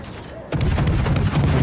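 Naval guns of a warship in World of Warships fire armor-piercing shells at a broadside Dallas cruiser; after a quiet half second a heavy booming barrage erupts and rumbles on continuously, loud and dense.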